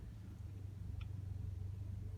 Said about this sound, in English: Push my button, car is going to start up.